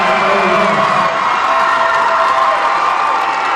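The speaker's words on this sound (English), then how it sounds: "Starters being taken out one by one, getting an ovation from this crowd" Arena crowd at a Holy Cross college basketball game cheers and applauds as the starters leave the floor, a sustained, loud ovation with scattered whoops.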